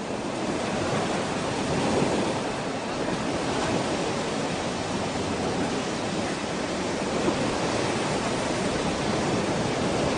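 Sea waves of the Bay of Bengal in India wash in a dense, steady roar of surf with wind noise, constant and moderately loud, with no voices.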